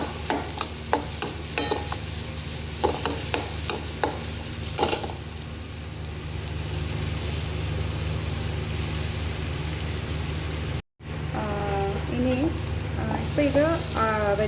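Vegetables stir-fry for chicken fried rice, a steady soft sizzle under a series of sharp utensil scrapes and clicks in the first few seconds, with a short break near the end and some faint background voices.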